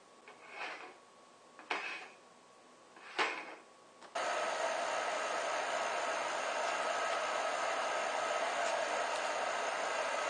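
A fan-forced rocket stove made from five steel cans, burner assembly on top, roars into a steady broadband rush after a few short clicks, continuous and fairly loud with a whooshing fan-and-flame hiss.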